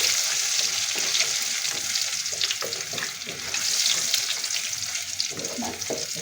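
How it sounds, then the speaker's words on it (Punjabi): Cumin seeds and chopped ginger roast in a hot pan, giving a steady, close sizzle with faint stirring scrapes and no voices. "ਜੀਰਾ ਲਵਾਂਗੀ ਇਸ ਦੇ ਨਾਲ ਹੀ ਇਹ ਥੋੜੇ ਜਿਹਾ ਕਰੀ ਕੱਟਿਆ ਹੋਇਆ ਅਦਰਕ ਇਹਨੂੰ ਮੈਂ ਥੋੜੀ ਦੇਰ ਭੁੰਨ ਲਵਾਂਗੀ"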